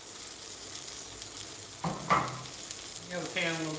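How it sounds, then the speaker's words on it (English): A chicken burger frying in an overheated pan, a soft steady sizzle with a faint hiss, briefly overlapped by a distant voice. "You have the pan a little bit too hot, got a little bit too much heat on that side of the burger."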